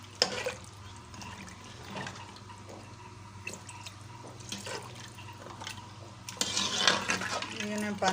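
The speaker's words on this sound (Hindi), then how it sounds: "मैंने पानी डाल दिया।" Water poured into fried masala for goat trotters paya in a home kitchen, a steady liquid splash and trickle running through the clip and growing louder toward the end.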